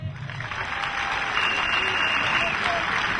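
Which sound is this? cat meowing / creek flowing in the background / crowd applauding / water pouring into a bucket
crowd applauding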